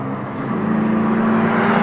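Cars, including a Mazda MX-5, running a quarter-mile street drag race: a steady engine drone and whir that builds slightly louder over a couple of seconds, heard from trackside with no talk.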